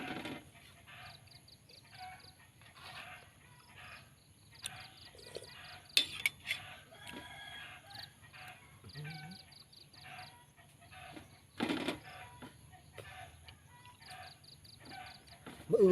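Chickens cluck repeatedly and close by in a busy farmyard, with a rooster crowing partway through and a few brief louder bursts.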